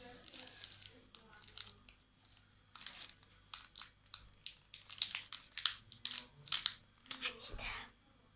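Plastic wrapper of a Feastables chocolate bar being torn and crinkled open, a series of sharp crackling rustles in irregular bursts, close and loud against a quiet room.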